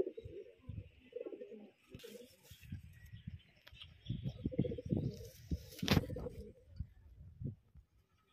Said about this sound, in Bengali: লাল নর শখ করাচ্ছে দেখুন বন্ধুরা, খুব সুন্দর নর।